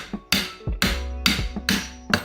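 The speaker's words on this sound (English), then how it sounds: "Take two pieces of wood like this and put it on each side, distribute the force, and hit it in the middle here with a hammer" Five hard hammer blows strike wood blocks set against a seized rear axle bushing on a Mk1 Volkswagen Rabbit, at a steady pace, each a sharp close knock with a short ringing tail.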